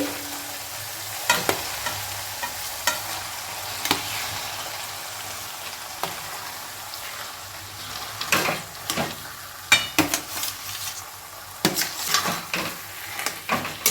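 Potatoes frying with spices in a pan for a Bengali potato curry, a steady soft sizzle broken by sharp scraping and clinking stirs that grow busier toward the end, close and without talk.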